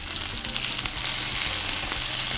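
Fish frying in hot oil in a pan, a steady, dense sizzle and crackle that carries evenly throughout without any talk.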